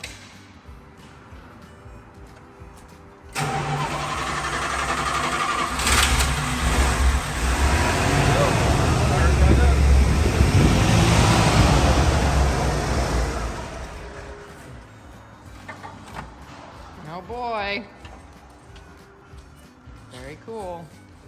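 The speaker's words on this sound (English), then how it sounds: "So here's a cold start." A 1981–82 car engine with about 34,000 miles cranks and catches after a week of sitting, then settles into a loud, steady idle that fades later, with people talking over it.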